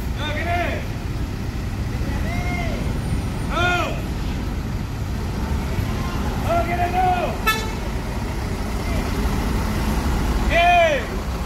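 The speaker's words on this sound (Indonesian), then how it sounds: "Ya, bus akan parkir mundur." A Sinar Jaya Premium Suites Class bus reverses into a parking spot with a low, steady engine rumble, short horn-like tones and voices talking over it.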